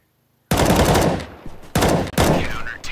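Loud automatic gunfire in the CS:GO video game comes in three close, dense bursts, each broken by a short gap.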